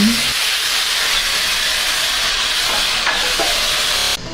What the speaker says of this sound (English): dumped in the chicken. Let's hear the sizzle.